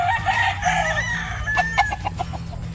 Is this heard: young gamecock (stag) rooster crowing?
yes